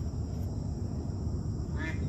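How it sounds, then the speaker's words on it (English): Ducks quack on water outdoors, a brief, moderately close call over a low rumbling background. "These ducks really aren't wanting to be on camera very much"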